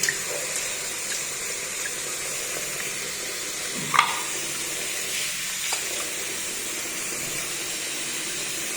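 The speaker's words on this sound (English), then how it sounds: "Now this is the filter. You need to wash it like this." An aquarium filter rinsed under a running tap gives a steady hiss of flowing water, with a brief splash or knock near the middle and a smaller one later, no voices.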